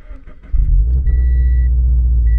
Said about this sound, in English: let me go ahead and fire up the car real quick